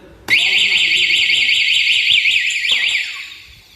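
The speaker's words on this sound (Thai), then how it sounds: "มีคนมาโดนรถหนึ่งครั้งนะครับรถจะเตือนขึ้นมาทันที" A loud Yamaha Aerox motorcycle anti-theft alarm wails with a warbling, rising-and-falling siren tone, starting abruptly and holding steady for a few seconds before cutting off and fading.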